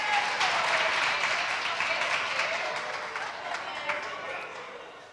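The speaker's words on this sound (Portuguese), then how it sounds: "Palmas para ele." An audience claps in a sustained burst of applause that slowly fades toward the end.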